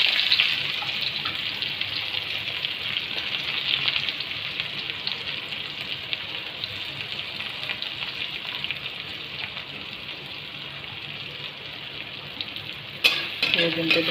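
Onions fry in a pan for a potato, cauliflower and tomato curry, giving a continuous bright sizzle at close range, with a brief stirring clatter near the end.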